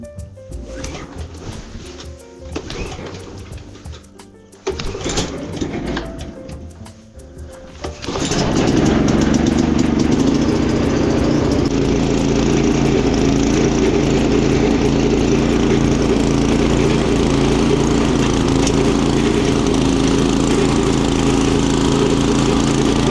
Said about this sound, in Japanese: ハンマーナイフモアエンジンかけていきますよ